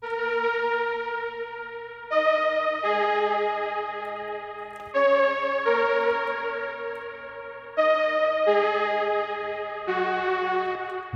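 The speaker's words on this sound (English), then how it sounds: "let's go ahead and add a reverb on top of that" A bright synth lead plays a slow sequence of sustained notes, each washed in reverb and echoing delay tails, with no voices.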